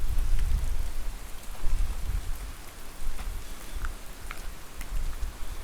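Steady heavy rain hissing and spattering outdoors, with low rumbling thunder underneath throughout.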